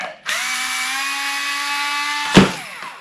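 Cordless battery power tool removing fasteners from a Traxxas Slash RC truck: a high electric motor whine spins up, holds steady for about two seconds close by, then stops with a clunk.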